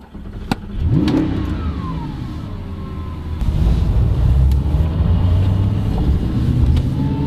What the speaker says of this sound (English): when you start it up you get the big V8 grumble